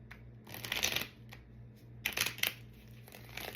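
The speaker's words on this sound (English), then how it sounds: "It's like it's hard to shuffle these cards." A deck of tarot cards is shuffled close by in two quick flurries of riffling, papery slaps and rustles, with quiet pauses between and a low steady hum underneath.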